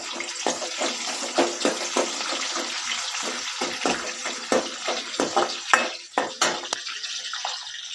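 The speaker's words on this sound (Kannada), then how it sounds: "ತಿರುಗಿ ಸ್ವಲ್ಪ ಕಲರ್ ಇದಾಗೋರು ಫ್ರೈ ಮಾಡಬೇಕು" Onions sizzle with mustard seeds in hot oil, a continuous loud crackling fry broken by frequent stirring scrapes and small pops, heard close with no talking.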